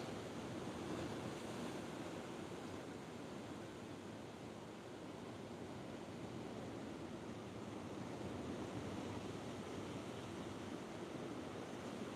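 Ocean waves crash continuously on the shore as a broad, steady wash of surf, faint and distant, with some wind noise and no voices.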